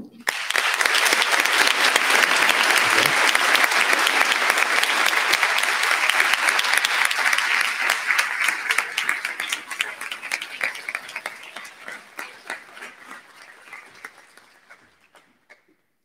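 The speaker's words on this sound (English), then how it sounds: "you're going to have to read all 5 and then applaud" Audience applause at a student leaders announcement, a dense burst of clapping rising quickly and sustained, then gradually thinning and fading away over the final seconds.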